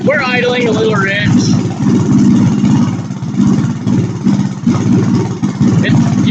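An engine idles slightly rich during Dynojet Autotune setup, a steady low rumble with small surges that runs under a person talking.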